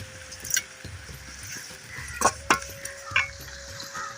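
Tomatoes being sautéed with a little salt for pepper chicken, with a soft sizzle beneath repeated close scraping and clinking of a spoon on the pan and a faint steady tone running through.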